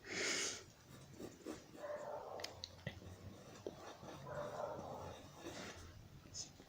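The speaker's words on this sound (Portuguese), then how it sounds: "O cachorro hoje tá latindo ali fora" A dog barks outside in the street, a few sharp barks and yips at a distance under a quiet voice nearby.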